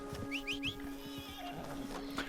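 A horse in the video game Red Dead Online gives a few short whinnying calls early on, over a steady low background hum and faint game ambience, with no talking.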